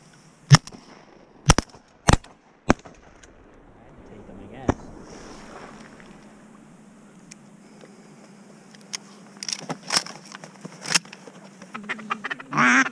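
Big flocks of mallard ducks quack on a hunt, scattered calls building toward the end, with several sharp loud cracks early on and voices talking in the background.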